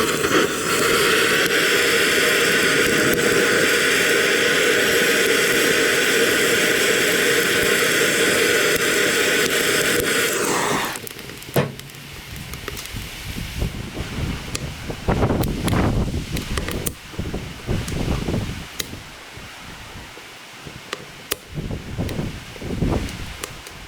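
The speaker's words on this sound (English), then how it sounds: "we're having a bit of trouble with the wind" Strong wind buffets the microphone outdoors beside a campfire with a fry pan, a loud steady roar for about ten seconds that drops away into quieter gusty rustling and scattered bumps.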